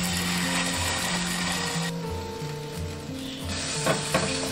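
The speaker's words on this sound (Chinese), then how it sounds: "放下去小火煎" Balls of glutinous rice dipped in beaten egg fry in lard over low heat, giving a steady soft sizzle with small crackles and a few light clinks of a utensil against the pan.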